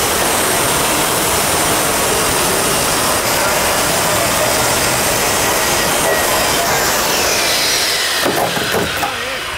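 Circular saw blade cutting wood during a closet makeover with trim work, a loud continuous close-up roar and rasp that holds steady for most of the stretch before winding down near the end.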